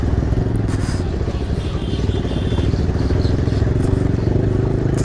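A Bajaj Pulsar 220F motorcycle rides along at steady speed, its engine droning continuously with a low rumble and some clatter over road and wind noise, loud and close throughout.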